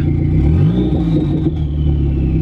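A Dodge SRT-4 engine with an open downpipe exhaust revs loudly up close, its deep raspy rumble rising and falling in pitch over a couple of seconds, with clattery turbo-like whine above it.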